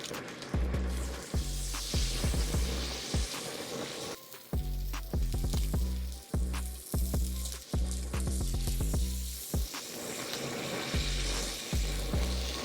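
Strips of Japanese A5 wagyu steak sear in a hot pan, giving a continuous close sizzle punctuated by sharp crackles and pops as pieces land and are moved.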